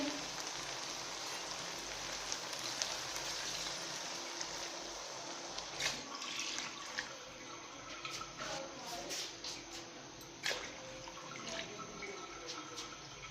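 Steady splashing of water being poured into a cooking pan of fried potatoes, a continuous wet hiss with small sharp drips and clinks scattered throughout.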